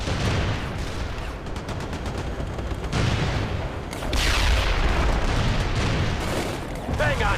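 In the battle game World in Conflict, rapid rattling gunfire gives way to heavy booming mortar impacts, loud and continuous, with bursts overlapping and rumbling across the field.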